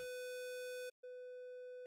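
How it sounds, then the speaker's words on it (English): Steady triangle-wave test tone generated in the ocenaudio audio editor, smoother and mellower than the brighter buzzing tone that comes just before it. The two are separated by a short silent gap, with no voices. "It's a triangular wave."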